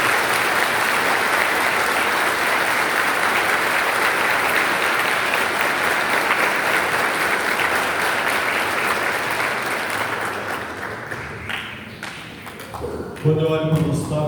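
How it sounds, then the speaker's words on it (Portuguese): Church congregation giving long, sustained applause for a seminarian at a liturgy week celebration, a dense even roar of clapping that tapers off and gives way to a voice near the end. "as nossas salvas de palmas."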